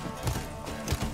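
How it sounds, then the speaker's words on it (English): Horse hooves clip-clop in The Witcher 3 video game, a short muffled run of hoofbeats at moderate distance over low game ambience. "He won't even get off his horse."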